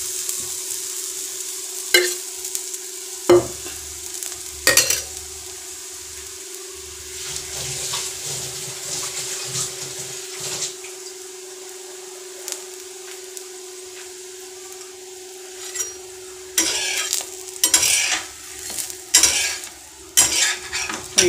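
Bhajani thalipeeth fries in ghee in a pan with a soft steady sizzle and a faint constant hum, broken by sharp scraping and clattering from a spatula being worked around the edges.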